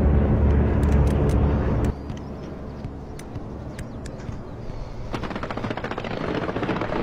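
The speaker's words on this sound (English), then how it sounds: "Okay, strafing run coming in." Machine-gun fire from a strafing run in a war video game, a loud rapid burst with a heavy rumble at first, then steady crackling fire and engine drone continuing in the background.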